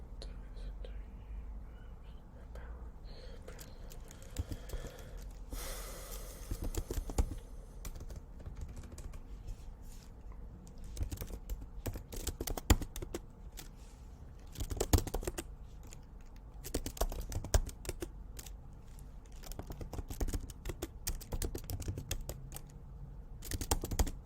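Keys tapped on a computer keyboard while a crypto wallet's recovery words are entered, steady irregular clicking in bursts across the span, with soft whispered talk underneath.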